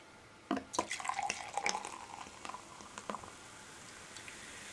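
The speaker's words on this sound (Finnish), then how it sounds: "Lähetään kaataa lasiin." Sparkling wine is poured into a glass, starting with a sudden splash and gurgle, then fizzing and dripping that fades into a quiet hiss of bubbles, close and alone.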